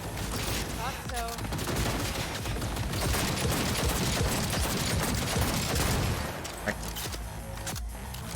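Sustained, dense minigun fire in the video game Cyberpunk 2077, a loud continuous roar of rapid gunshots lasting throughout with booming impacts, no speech audible over it.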